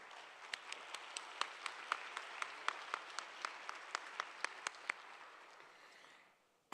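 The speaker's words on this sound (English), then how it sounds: "please help me give another round of applause to President Han and the GNSM team" Conference opening ceremony audience applause in a large hall, a soft steady wash of clapping with distinct individual claps popping through regularly, fading out at the end.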